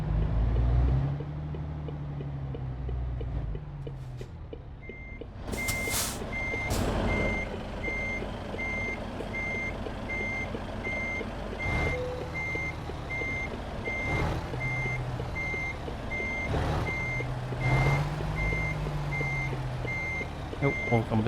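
Reversing beeps sound from a truck backing into a parking bay in Euro Truck Simulator 2. The evenly spaced high tone repeats many times over a steady engine rumble, with occasional sharper bursts from the cab.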